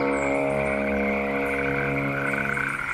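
Frogs croak together in a loud, dense chorus, a continuous buzzing drone with layered pulsing calls close by and no voices.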